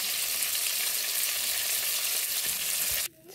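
Fish frying in hot oil in a village kitchen, a steady close, loud sizzle running without a break until it cuts off abruptly near the end.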